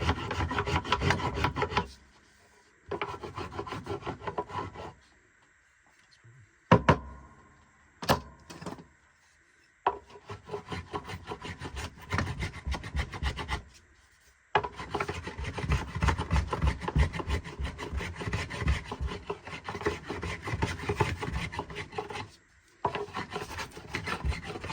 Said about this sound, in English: going to scrape this down.